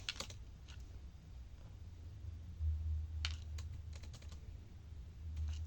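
Keys tapped on a computer keyboard during a tutorial, soft scattered clicks in small bursts over a low steady hum, faint and close.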